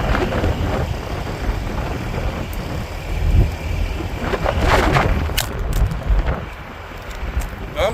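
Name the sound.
strong wind blowing on Arctic road trip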